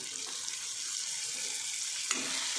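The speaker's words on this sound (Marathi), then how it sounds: "आता मसाले चांगले तळल्यात त्याच्यामध्ये ना एक टमाटर टाकते चिरून" Chopped tomato dropped into frying spices for a matar nimona curry, a hissing, watery sizzle that swells briefly near the end, close and continuous without speech.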